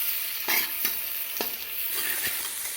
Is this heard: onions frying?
yes